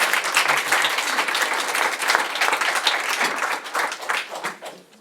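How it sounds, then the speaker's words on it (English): An audience at a school annual general meeting claps in a loud, dense round of applause that holds steady and then tapers off near the end. "please give them a round of applause"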